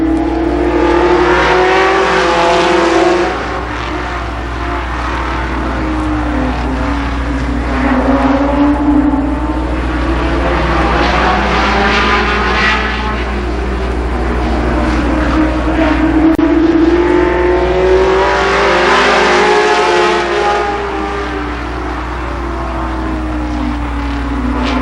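Sprint cars run qualifying laps at Columbus Motor Speedway in a 1992 limited sportsman heat, engines roaring loud and continuous with rising and falling pitch as the field sweeps around the track.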